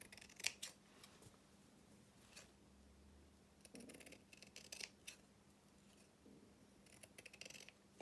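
Scissors trimming the fabric seam allowance on a small sewn doll's dress, with quiet, close snips and crisp blade clicks in scattered bursts.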